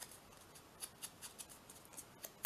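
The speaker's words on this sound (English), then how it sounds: "Let me just cut around those edges" Small scissors snip around the edges of a paper bookmark tag in a quiet, steady series of short, crisp cuts, close by.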